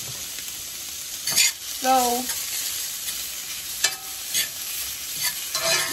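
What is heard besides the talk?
Eckrich beef sausage pieces frying in a pan with water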